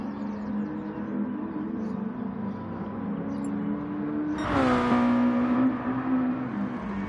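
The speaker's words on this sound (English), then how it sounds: "All the boys pulling handbrakes. Burnouts Devo in the tyres just before the race." Racing video game touring cars, Mazda, on the Dragon Trail Gardens circuit, idle and rev on the grid before the start, a steady droning engine note that surges and rises in pitch as one revs hard, fairly loud and close.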